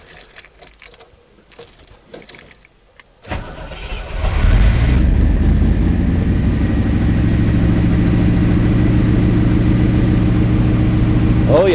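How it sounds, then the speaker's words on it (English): Triumph Stag after a 3000-mile service: quiet handling and key sounds, then the engine cranks and catches, settling into a loud, steady idle close by. "so now it's time to warm up the engine"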